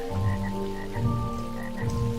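Croaking from a small frog in a metaverse virtual world, several rhythmic low croaks up close, moderately loud over soft rain-like ambience, with no voices.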